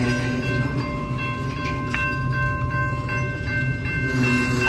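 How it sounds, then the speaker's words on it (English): A long train sits on the tracks with graffiti on its cars, giving a steady low rumble and rail noise close by, with faint high tones and a few clanks. "Like this is not even the end of the train"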